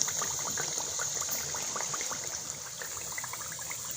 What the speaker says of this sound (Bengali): সেই জন্য আমি অল্প জাল দিয়ে দিয়ে ভেজে নিচ্ছি